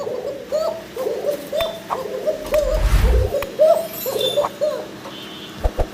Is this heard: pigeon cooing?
yes